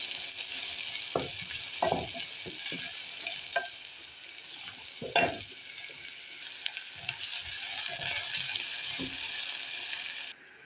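Onions browning in oil hiss in a steady, faint sizzle, broken by scattered scrapes and taps of a spoon against the pan, close by and without talk, cutting off abruptly at the end.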